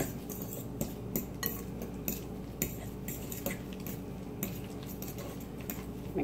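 A utensil clinks and scrapes against a bowl while egg is mixed into potato gnocchi dough, with steady rhythmic taps over a constant low background hum.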